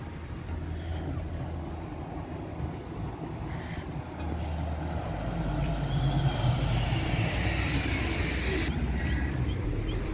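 Madrid metro train rumbling steadily through the whole stretch, a low rolling drone that grows somewhat louder midway, with faint higher squeal and hiss above it and no voices.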